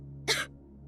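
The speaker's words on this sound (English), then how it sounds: "Moeka gave a painful cough and spit up some stomach fluid mixed with blood." A single painful cough from a female character in the Steins;Gate 0 visual novel, a short harsh burst that stands out sharply against a quiet, humming background.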